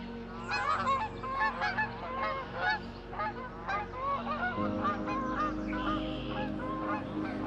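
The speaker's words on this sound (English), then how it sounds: "some of the Canada geese there" A flock of Canada geese honks continuously, overlapping calls rising and falling over steady background noise, fairly close.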